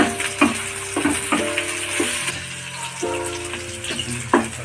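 Cashews roasting in a pan with green chilies for dum aloo: a steady close sizzle of frying under soft music, with occasional scraping clinks of a spoon stirring in the pan.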